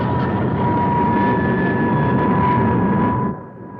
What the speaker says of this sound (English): Looks like the bus is commencing to pull out.